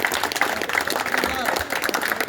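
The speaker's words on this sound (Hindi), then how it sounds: "एक बार ताली बजा।" A group clapping at a temple gathering during a ward councillor election campaign in Dhanbad, a steady, moderately distant patter of many hands under a murmur of voices.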